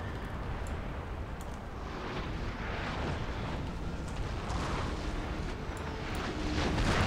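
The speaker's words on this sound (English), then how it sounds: "So that's 36 36 cannons or guns firing at once." Massed artillery volley in Napoleon: Total War, thirty-six cannons firing at once in a battle, heard as a dense, sustained rumbling roar of overlapping booms that swells slightly louder toward the end.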